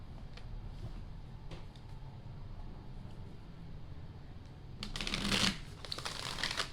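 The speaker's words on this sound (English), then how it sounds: "Shuffle once, cut 3 times." Tarot cards being shuffled up close: soft, quiet riffling and sliding, growing into a louder, denser burst of card flutter toward the end.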